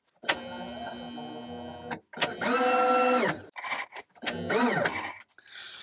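Round column mill cutting a keyway slot with a 3/8 cutter at 3 inches per minute, a steady whirring motor drone that shifts pitch in several separate runs with short gaps, loud and close.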